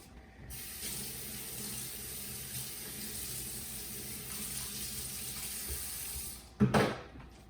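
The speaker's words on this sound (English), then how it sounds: "I'm just going to give this a quick rinse." Water runs steadily from a kitchen tap to rinse a pan, a close, even hiss that holds for several seconds before a short clattering splash near the end.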